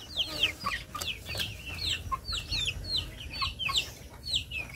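Chickens cluck repeatedly at a distance, with scattered bird calls over a low outdoor hum and no talking.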